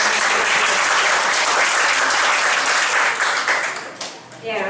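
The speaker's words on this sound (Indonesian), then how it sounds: "Tepuk tangan dulu ya" Audience applause at a handover ceremony at Usmar Ismail theatre lab, a dense burst of clapping from a crowd that holds steady and then tapers off near the end as a voice begins.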